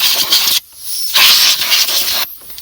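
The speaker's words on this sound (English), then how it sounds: "You're going to take your air tool here, your blower, and you're going to blow up everything" A compressed air blower clears debris from the engine of a Dodge Ram 1500 with the 4.7L engine during a spark plug job. Three loud, close hissing blasts of air are separated by short pauses, with no talking.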